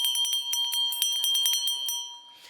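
Small bells jingling and ringing in a rapid cluster of bright strikes that fade out, heard alone without voices.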